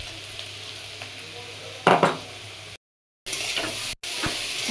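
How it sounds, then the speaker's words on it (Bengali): Spiced cauliflower and potato filling fries in a pan, giving a steady close sizzle broken by a sharp burst of stirring and scraping, with a couple of brief silent cuts. "ফুলকপি আলু ভাজা হয়ে গেছে মশলা দিয়ে"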